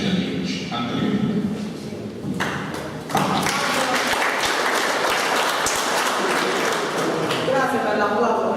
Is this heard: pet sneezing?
no